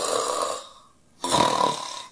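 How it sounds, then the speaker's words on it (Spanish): A comic sketch's loud snoring: one drawn-out rasping snore, a short pause of quiet, then a second heavy snore, close and alone without speech. "Solo roncando."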